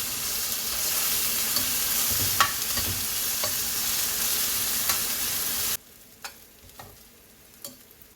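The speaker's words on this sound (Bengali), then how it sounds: "পেঁয়াজ অর্ধেক ভাজা ভাজা হয়ে এলে ওর সঙ্গে আদা রসুন পেস্টটা দিয়ে ভালো করে ভেজে নেব" Onions and ginger-garlic paste sizzle and fry in a pan for mushroom masala, a loud steady hiss with occasional stirring clicks, dropping to a quieter crackle near the end.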